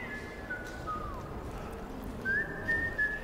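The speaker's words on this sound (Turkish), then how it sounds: "O çaldığın ıslık var ya." A character whistles in the video game Metro Exodus, two thin sustained whistled tones a couple of seconds apart over a low, busy game ambience.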